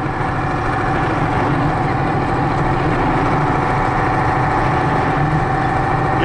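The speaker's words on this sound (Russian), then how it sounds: "Вот здесь он ровно идет, КамАЗ." A KAMAZ truck engine drones steadily while driving along a road, a loud, constant low mechanical hum with no letup.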